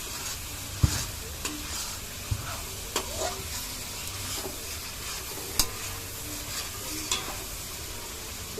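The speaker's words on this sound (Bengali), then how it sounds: "দিয়ে নেড়ে চেড়ে মশলাটাকে খুব ভালোভাবে কষিয়ে নেব" Spices with coriander and chili powder are stirred and fried in a pan: a steady sizzle punctuated by sharp, regularly spaced spoon scrapes and knocks against the metal.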